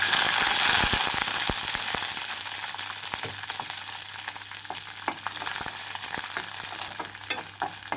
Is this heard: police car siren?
no